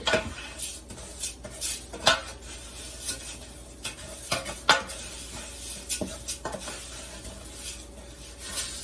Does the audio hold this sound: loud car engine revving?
no